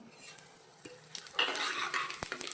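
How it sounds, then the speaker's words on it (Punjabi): Crushed dried coriander seeds and cumin are dropped into hot oil and sizzle loudly, with stirring scrapes and clinks of a utensil against the pan. "ਆਇਲ ਜਿਹੜਾ ਆਪਣਾ ਗਰਮ ਹੋ ਚੁੱਕਿਆ ਹੁਣ ਇਸ ਵਿੱਚ ਅਸੀਂ ਪਾਵਾਂਗੇ ਕ੍ਰਸ਼ ਕੀਤਾ ਹੋਇਆ ਧਨੀਆ ਸੁੱਕਾ ਧਨੀਆ ਤੇ ਨਾਲ ਹੀ ਜੀਰਾ"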